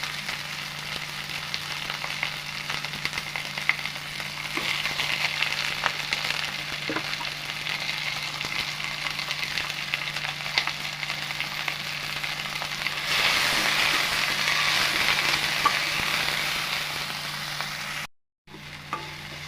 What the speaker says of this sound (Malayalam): നമ്മൾ അരിഞ്ഞ് വെച്ചിരിക്കുന്ന ചുവന്നുള്ളിയാണ് ഇട്ടത്